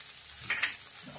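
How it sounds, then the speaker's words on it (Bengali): Ground coriander goes into a pan of frying vegetables for a green cauliflower dish, giving a brief soft sizzle with a quick stirring scrape, with no voices. "এখন এর মধ্যে একে একে গুঁড়ো মশলাগুলো আমি দিয়ে দিচ্ছি ধনে গুঁড়ো"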